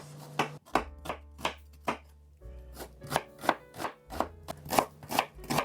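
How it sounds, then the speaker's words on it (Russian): A kitchen knife chops onion into small cubes for pearl barley porridge with meat, striking the cutting board in quick, fairly regular rhythmic bursts with brief pauses, close and crisp, with no talking. "Лук порежу небольшими кубиками."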